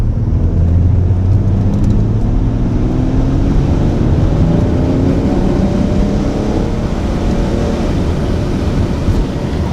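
A BMW E90 335d diesel sedan with a tuned transmission pulls hard and loud for nearly ten seconds, its engine tone climbing and dropping several times as gears change quickly.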